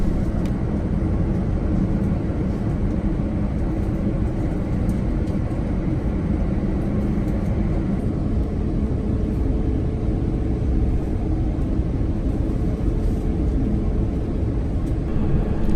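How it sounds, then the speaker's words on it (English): A Singapore Airlines Airbus A350 takes off from Changi Airport, with a steady, loud, broadband engine roar heard from inside the cabin that holds constant throughout. "It was soon time to take off for what was an absolutely stunning takeoff from Changi Airport."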